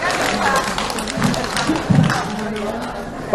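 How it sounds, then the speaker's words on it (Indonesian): Applause for a choir of notaries at a members' meeting in South Tangerang, a crowd clapping steadily over an announcer's amplified voice. "Kita berikan tepuk tangan sekali lagi untuk rekan-rekan kita."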